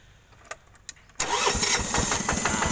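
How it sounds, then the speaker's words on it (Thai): A small walk-behind tractor engine cranks and catches easily, then settles into a steady, rattling idle close by, after a few faint clicks. "เครื่องสตาร์ทติดง่ายเลย"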